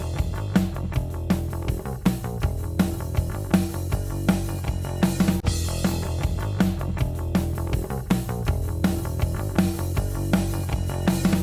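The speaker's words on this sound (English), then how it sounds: "A lot of people say that the SSLs or these type of compressors have a signature kind of thwack kind of sound." A snare drum sitting in a full mix, processed through an SSL-style VCA compressor for a tighter, punchier crack, with repeated snare hits steadily marking the beat over continuous music, no speech.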